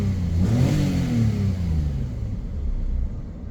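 A BMW E46 with freshly changed spark plugs gets a single engine blip: the revs rise quickly and then fall back to a steady, smooth idle rumble, close and fairly loud.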